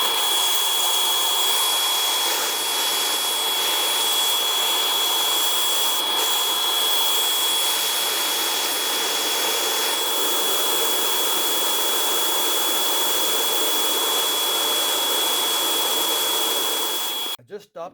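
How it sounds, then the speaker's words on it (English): A wet vacuum cleaner roars steadily and loudly while sucking water out of a coal fire back boiler, with a constant high whine throughout before cutting off abruptly at the end. "Once I get this vacuum cleaner go, I'll push that out and she'll come out some speed."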